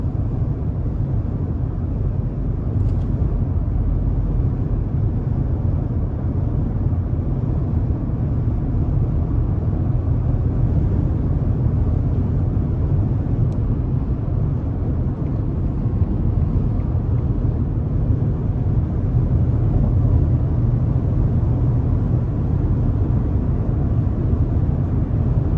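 A 2021 Ford F-150 XL regular cab pickup with a 5.0 V8 cruising on small wheels, a steady low engine and road drone heard from inside the cab, smooth and unbroken.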